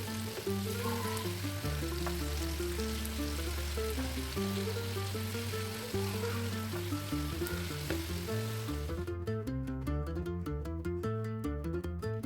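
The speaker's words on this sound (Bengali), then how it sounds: "আমি চিকেন পিসগুলো এপিট ওপিট ভালো করে ফ্রাই করে নিলাম" Chicken pieces frying in hot oil, a steady crackling sizzle running under louder background music with sustained tones for most of the stretch.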